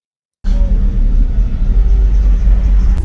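Deep, heavy bass from two 18-inch car audio subwoofers driven by 6,000 watts, a loud sustained low rumble that starts abruptly and holds steady without speech.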